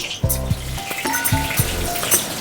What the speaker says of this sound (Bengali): গোটা জিরে ফোড়ন দেব। আর দেব সাথে কটা এই যে দেখুন কাঁচা লঙ্কা